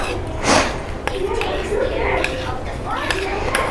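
A face pack of mashed ripe banana and honey is mixed with a spoon in a bowl, giving light clinks and soft scraping strokes nearby while a voice talks over it.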